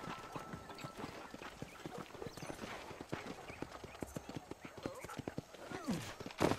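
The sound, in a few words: horse whinnying and hooves in video game Red Dead Redemption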